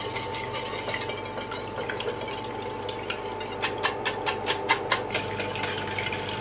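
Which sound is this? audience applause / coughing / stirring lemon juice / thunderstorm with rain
stirring lemon juice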